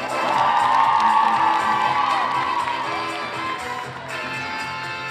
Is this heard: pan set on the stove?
no